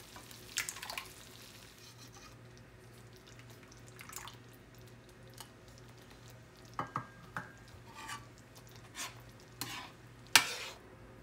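Crab with aligue crab paste and coconut milk simmers in a pan with a quiet sizzle, broken by scattered stirring scrapes and clinks of a utensil against the pan, fairly faint and close.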